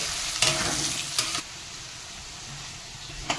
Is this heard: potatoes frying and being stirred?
yes